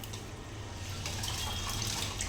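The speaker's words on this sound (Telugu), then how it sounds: "ఇప్పుడైతే బియ్యం వేసేస్తాం" Soaked rice is poured into a pot of water for pulao, making a steady, close watery rush and splash that holds evenly throughout with no talk.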